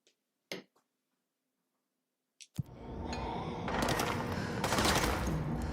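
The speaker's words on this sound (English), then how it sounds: "Where are they shooting at me?" Gunfire in the video game Control erupts after a near-silent stretch with a few faint clicks, becoming a loud, dense, continuous barrage that holds steady to the end.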